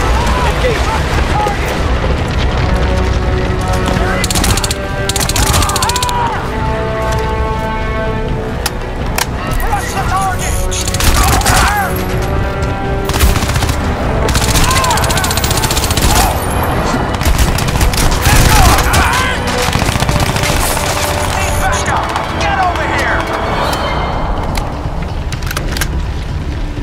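Gunfire and explosions in the Crysis 2 Remastered video game, loud and continuous bursts of shooting over a dense battle soundscape, with radio-style voice callouts heard throughout.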